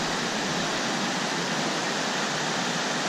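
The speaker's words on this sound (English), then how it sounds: "Water's flowing nicely." Loud, steady rushing of river water on the Appalachian Trail near Kent, Connecticut, a constant broadband roar with no pauses and nothing else audible.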